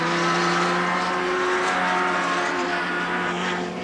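BMW and Vauxhall touring cars, including Chris Hodgetts' Vauxhall, race through a British Touring Car Championship round in 1990, a loud continuous engine roar with steady high revving tones throughout.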